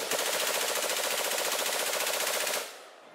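Modern guns fire a rapid, continuous automatic burst of loud shots for about two and a half seconds, then stop abruptly and leave a brief fading tail.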